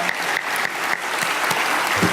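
Audience applause fills the whole stretch, a dense, steady wash of many hands clapping at close to moderate distance, with no voices rising above it.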